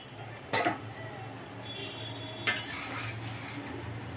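Lid lifted off a pot of simmering fish curry: two short metallic clanks about two seconds apart, close and clear over a low steady bubbling hum.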